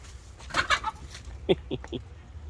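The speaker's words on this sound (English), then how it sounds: "A chicken." A backyard chicken near a beehive apiary gives a few short, close clucks in quick succession, after an earlier burst of brighter, noisier sound.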